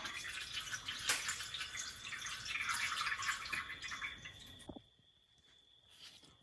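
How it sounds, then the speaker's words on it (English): Water glugs from a 2-liter Coke bottle into the radiator of a 1969 Ford F100 pickup, a continuous close splashing pour that stops abruptly near the end, leaving quiet with a faint trickle. "we're gonna fill the radiator up, see if we got leaks."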